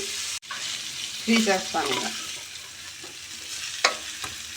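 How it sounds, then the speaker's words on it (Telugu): Paneer pieces sizzling in hot oil in a pan, with stirring and scraping sounds and a soft hiss, close up, while a person briefly talks. "ఆయిల్లో పన్నీర్ ముక్కలు వేసుకుంటున్నాను."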